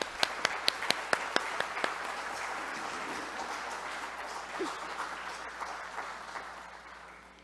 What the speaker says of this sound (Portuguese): Palmas para essas mulheres